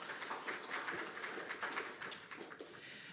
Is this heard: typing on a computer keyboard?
no